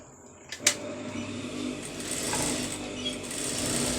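A sewing machine stitches a patch onto a blouse sleeve, running in a steady, close mechanical whir after a sharp clack near the start.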